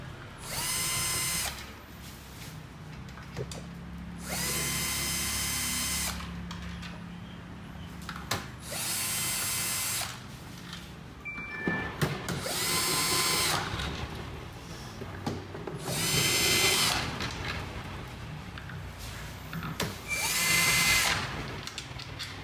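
Several bursts of a power drill whirring as it unscrews nuts from a KONSUNG oxygen concentrator during fan removal, each burst lasting a second or two, separated by short pauses with faint clinks of metal parts.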